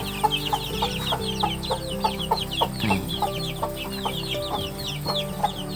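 Many month-old Betong chickens cluck and chatter together at once, a busy, continuous flock sound close by, over a steady mechanical hum.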